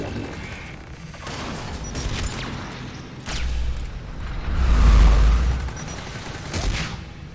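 Gunfire and heavy blasts from a Geth Dreadnought fight in the video game Mass Effect 3, with repeated shots and a swelling deep boom midway, set against game ambience and some talk.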